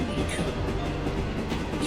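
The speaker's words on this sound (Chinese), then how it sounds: "我喜欢听这个普铁的这个声音啊" A conventional, non-high-speed train leaving Fuyang station in a train driving simulator game runs along the track with a steady, dense rumble and faint rhythmic clatter, loud and continuous throughout.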